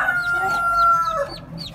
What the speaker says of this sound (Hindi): वो मुर्गी ये वाली और मुर्गा ये मट्टी में खेल रहा